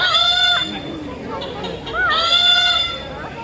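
A bird at the AFAMOSA safari park mimics a chicken, giving clucking, crowing-like calls loud and close, in two bursts with a short pause between.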